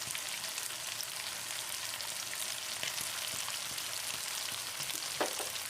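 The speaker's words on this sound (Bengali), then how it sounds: "এবার আমি এটাকে ভালো করে কষাবো" Chicken coated in spice paste with Kashmiri chili powder sizzling in a pan, a steady close frying hiss with occasional scraping stirs and small pops, no voices.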